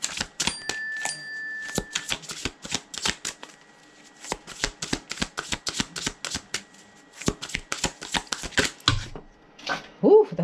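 Tarot cards being shuffled, a rapid run of crisp riffling snaps and flicks close up, pausing briefly midway and resuming, with a faint voice near the end.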